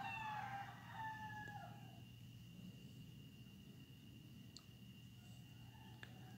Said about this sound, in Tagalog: Shout out sa manok na tumitilaok.